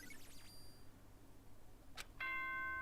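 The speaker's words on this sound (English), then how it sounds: "Ding dong bing bong." A two-tone ding-dong chime from a video game rings out clearly near the end, following fainter sweeping electronic tones, with no talking.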